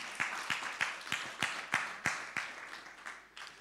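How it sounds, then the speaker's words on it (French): In a church, distinct rhythmic hand claps ring out at a steady beat, about a dozen evenly spaced slaps, moderately quiet and reverberant, fading slightly toward the end. "C'est bien, je peux vous applaudir."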